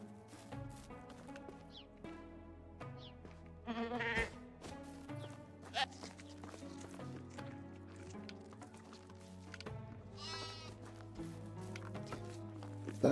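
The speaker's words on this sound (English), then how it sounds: "I guess it was a little baby goat. Sound more like a sheep than it did a goat" Baby goat bleating in a video game, bright sheep-like cries repeating at intervals over steady game music and ambience.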